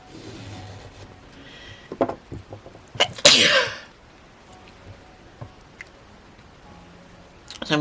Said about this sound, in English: Sorry, I keep sneezing because of my allergies